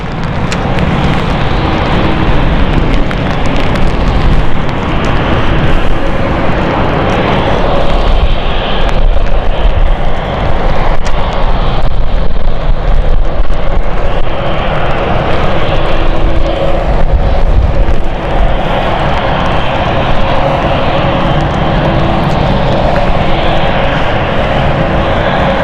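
An airliner descends toward London City Airport in stormy weather, a loud, rumbling engine roar sustained throughout, mixed with gusty wind buffeting the microphone and no voices.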